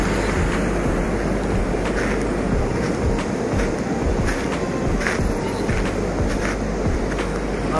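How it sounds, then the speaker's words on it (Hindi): Water flows steadily through an outdoor spot where people fish, a loud, unbroken rushing wash with no voices over it. "पूरा पानी का आवाज़ आ रहा है"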